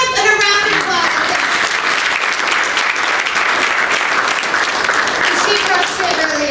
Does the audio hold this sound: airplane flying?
no